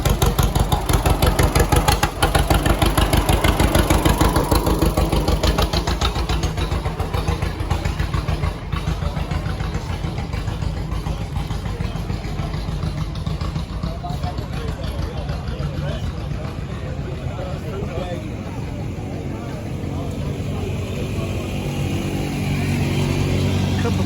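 An Oliver 1850 tractor at the Robbins Farmers Day tractor parade runs with a steady, loud engine rumble throughout, while people talk in the background.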